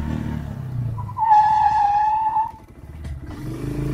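Rear brake of a Bristol 250 motorcycle locking up, giving a single loud tire skid squeal lasting about a second over a low engine rumble, followed by the engine running on.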